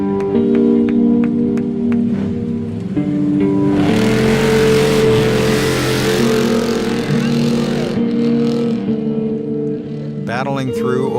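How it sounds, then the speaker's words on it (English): A Baja 1000 trophy truck roars toward the checkered-flag finish in La Paz; a loud engine drones and surges under continuous commentary, with a burst of broad noise midway as it passes close. "the first trophy truck makes its way through the checkered flag in La Paz"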